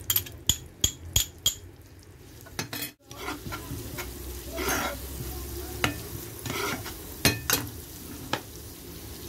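Garlic sizzles in a pan of heated butter and olive oil, a soft steady frying hiss broken by sharp clinks and taps of a utensil against the pan, with a brief gap partway through.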